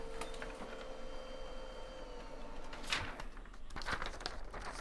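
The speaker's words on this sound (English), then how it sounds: "All right, it's printing. Laser printer warm up, go." A laser printer warms up and prints: a steady mechanical whir with clicks, paper-feed rattles and a couple of sharper clacks, heard up close with no voices.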